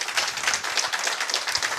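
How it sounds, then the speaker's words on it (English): Dense, bright applause from a gathered audience fills the moment, continuous rapid clapping at steady volume with no speech. "I would like all of us to give a resounding applause to our MD"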